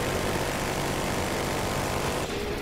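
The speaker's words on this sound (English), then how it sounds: "I'm in the helicopter." A helicopter in the Battlefield Hardline video game drones with a loud, steady rotor and engine roar that fills the whole stretch close by and dips slightly near the end. There is no talk over it.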